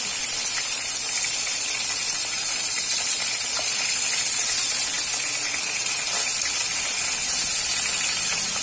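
Pieces of katla fish fry gently in a pan, giving a steady, even hiss of hot oil that holds close and constant throughout with no voices.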